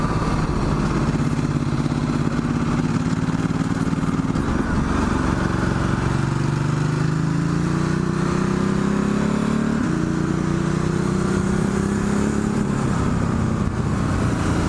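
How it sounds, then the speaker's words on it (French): Ducati Multistrada 1260S fitted with a Termignoni exhaust, close and loud, its engine note rising in pitch through several accelerations with brief dips between them, a deep throaty rumble running throughout. "cette moto est équipée d'échappement Termignoni qui fait un superbe bruit"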